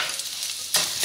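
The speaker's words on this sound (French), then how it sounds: "je viens le remuer et après je viendrai mettre une louche de mon bouillon" Risotto rice and shallots sizzle in a pan, a close, steady frying hiss broken by a sharp stirring scrape that briefly flares the sizzle louder.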